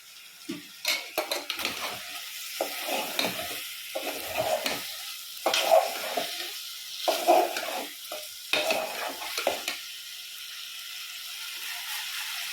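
Chicken with a bay leaf fries in a pan for a thin chicken curry, irregular bursts of sizzling and spoon-stirring scrapes rising and falling, close and fairly loud, then fading into a quieter low sizzle near the end.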